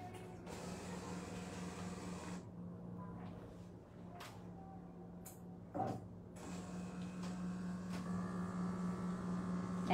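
A De'Longhi Eletta Cappuccino automatic machine at work, giving a faint, steady mechanical hum and whir with a brief pause, a short hissing burst midway, and a gradual build in loudness toward the end.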